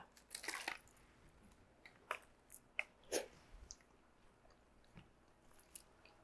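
Someone chews a mouthful of miso flounder baked en papillote with juicy vegetables: soft, close, intermittent bites and crunches in a quiet room, with no talking.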